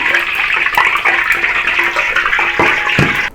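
Rice vermicelli deep frying in hot oil, a loud continuous hiss and crackle of puffing noodles that holds steady for a few seconds, with a couple of sharper pops near the end before it cuts off.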